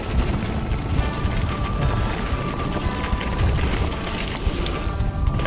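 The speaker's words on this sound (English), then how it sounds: "Yeah, it's very windy." Strong wind buffets the microphone at Bike Park Wales on a wet day of mountain biking, a loud, steady broadband roar that gusts and swells throughout with no voices over it.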